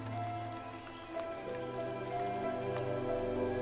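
Wet-season rain falls on forest leaves in Cambodia, a soft, steady patter of drops with faint scattered ticks beneath a low background hum, quiet and continuous.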